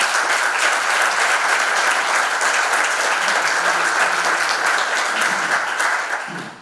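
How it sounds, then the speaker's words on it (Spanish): Dense, sustained audience applause at an award ceremony for a historian, loud and steady throughout and tapering off at the very end, with no talk over it. "Muchísimas gracias y un aplauso para María Elvira, por favor."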